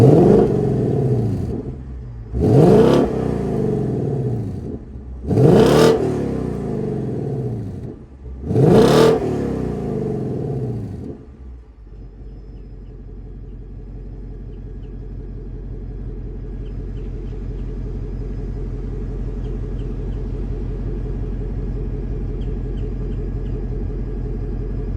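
A 2024 Ford Mustang GT Premium with a 5.0 Coyote V8 and automatic transmission barks through four sharp, loud revs a few seconds apart, then settles into a steady, deep rumbling idle.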